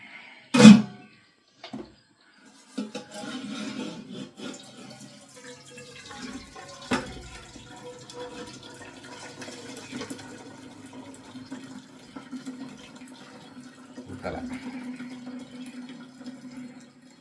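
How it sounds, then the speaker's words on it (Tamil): Water is drained off cooked food from a pot: a sharp splash at the start, then a steady, moderate pouring and trickling that continues to the end, with a few brief knocks of the pot. "முடிந்தவரை கையில் ஊற்றாமல் வடித்து பார்க்குறேன்."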